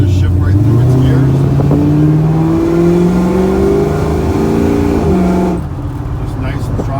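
A 1972 Ford Mach 1 revs hard and climbs through its gears, engine pitch rising in repeated sweeps with brief dips at each shift before easing off near the end; loud and close, with talk over the engine.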